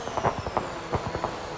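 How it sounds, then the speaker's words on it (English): Fireworks burst at a race finish in the F1 2022 video game at the Mexico round, a quick run of crackling pops and bangs repeating irregularly at moderate loudness. "Fireworks go off, but for is it going to be for Vaughan?"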